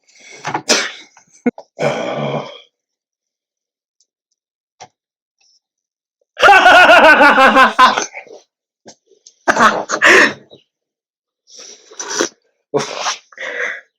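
A man sneezes loudly on a podcast: one long, forceful burst in the middle, with short vocal bursts and exclamations before and after it.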